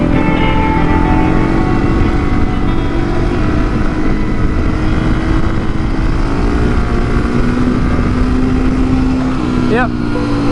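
A motorcycle engine drones steadily and loudly throughout, riding wheelies on the road, with no distinct rev peaks standing out.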